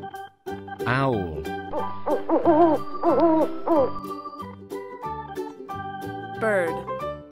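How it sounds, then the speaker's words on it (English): Several owl hoots, a few spaced calls and a wavering pair in the middle, sound over steady background music. "Owl."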